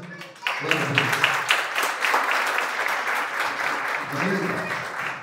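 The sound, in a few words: congregation applause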